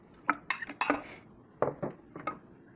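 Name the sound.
mixing veggie burger ingredients in a bowl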